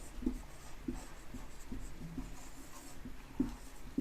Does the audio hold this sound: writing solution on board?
yes